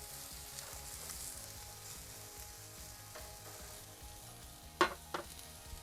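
Chicken burger patties sizzle in a pan set on a gas grill, a steady quiet frying hiss throughout, broken near the end by a couple of sharp clanks from the pan.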